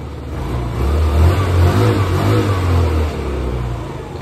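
A Yamaha Vino50 water-cooled, fuel-injected scooter, kick-started after sitting six months with a dead battery, revs up close by: a low engine drone rises, holds steady for about two seconds, then eases back toward idle, with no talking.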